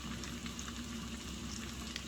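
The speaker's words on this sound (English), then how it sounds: "Look at that sizzle" Steady crackling sizzle of eggs frying in a hot cast iron skillet, a continuous dense hiss with fine pops throughout.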